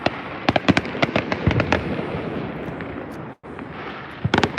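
Fireworks exploding outdoors, a rapid series of sharp cracks and bangs over a dense crackling wash, with a short pause before a final cluster of loud pops.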